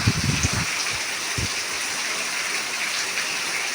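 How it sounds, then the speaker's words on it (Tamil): Steady rain falls in Tiruppur, a loud, even hiss of drops close by, with a few low thumps in the first moments. "பாருங்க மழை பெய்யுது"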